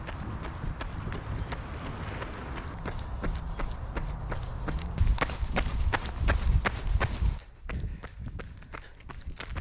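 A runner's footsteps land in a steady, quick rhythm on a trail, the crisp repeated strikes close and clear over faint background rumble, and the pace continues throughout.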